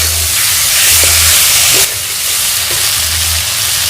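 Chopped tomatoes hit a hot pan for a Bengali tomato egg curry and fry with a loud, steady sizzle and hiss close by, with faint stirring clinks.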